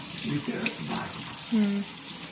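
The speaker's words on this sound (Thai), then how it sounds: "เตรียมแป้ง ใส่น้ำนะคะน้ำ" Water poured into flour to prepare homemade pizza dough, a soft continuous splashing trickle like a running tap, close and moderately quiet, with someone speaking over it.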